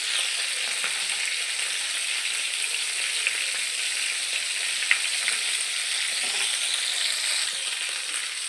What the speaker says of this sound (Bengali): তেল গরম হয়ে গেলে এবার পটলগুলোকে একে একে দিয়ে দেবো।